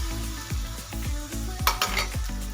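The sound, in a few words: vegetable tempering (phodni) sizzling on full gas flame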